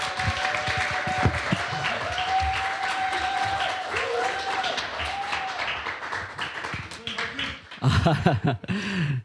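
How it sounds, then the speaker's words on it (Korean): A church congregation claps to welcome a pastor to the pulpit for a Sunday service, sustained dense applause with a voice speaking over it, swelling into louder bursts near the end. "나오실 때 우리 환영의 박수로 환영해 주시죠."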